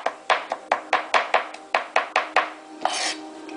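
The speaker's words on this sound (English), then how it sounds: "Then go lengthwise and just chop." A kitchen knife chops slivered vegetables lengthwise for gyoza on a cutting board, a steady run of about a dozen crisp, close thuds, then a short scraping sweep.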